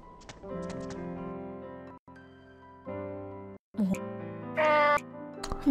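A cat in the video game Nights of Azure meows in several short, tonal calls separated by brief gaps, clear and close, with a higher, brighter cry near the end and no talking.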